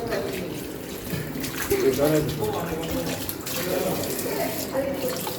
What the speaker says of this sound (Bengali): তো আমি এই আঙ্গুরগুলো ধুয়ে নিচ্ছি